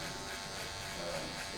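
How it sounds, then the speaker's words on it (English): A cordless Wahl Magic Clip-style clipper, the Cordless Master, with its blade lever fully open, gives a steady, close electric buzz while cutting a fade. "So now I've got cordless master all the way open."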